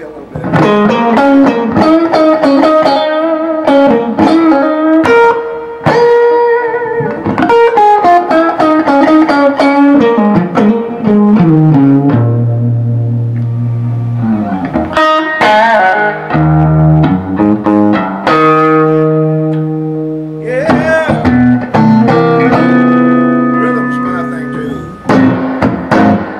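Electric guitar played loud through a Vibroverb and Super Reverb hybrid amp with a surfy, wet spring reverb, picked notes and chords ringing out with splashy decay, no voices.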